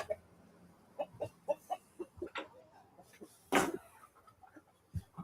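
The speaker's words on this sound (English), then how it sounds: "Yeah, you hear chickens." Chickens cluck in a series of short, clipped calls, with one louder squawk in the middle, from birds close by.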